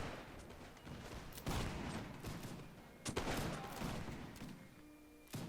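Gunfire volleys crack through a Napoleonic-era line battle in a video game, several sharp bursts of musketry spread unevenly over a few seconds, some near and loud, others trailing off, with no talk.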